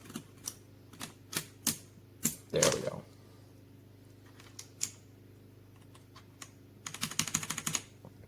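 A keycap is pressed onto a Redragon K556 mechanical gaming keyboard with brown switches, then the keys are typed: sharp scattered clacks, one louder snap, and a quick rapid burst at the end, close up, with someone speaking briefly.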